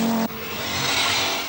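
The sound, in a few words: rally car racing on narrow roads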